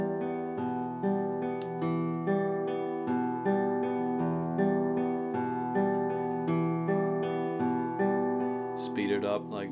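Fingerstyle acoustic guitar picked in slow, even triplets with the thumb and index and middle fingers, sustained notes ringing steadily across the strings, played alone and close.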